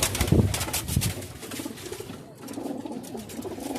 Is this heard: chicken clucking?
no